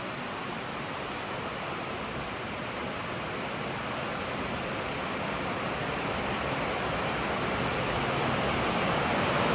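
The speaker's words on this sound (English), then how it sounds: "It is really raining out." Heavy rain pouring outside, a dense, steady broadband hiss that stays loud and unbroken throughout, swelling slightly toward the end.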